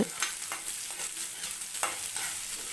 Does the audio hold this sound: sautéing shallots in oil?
yes